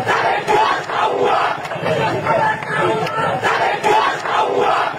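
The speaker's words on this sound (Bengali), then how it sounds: "বাংলাদেশের রাস্তায় স্লোগান ওঠে টিনের সালে" A crowd on Bangladeshi streets chants a political slogan together in loud, rhythmic waves, with repeated shouted phrases from many voices, close and continuous.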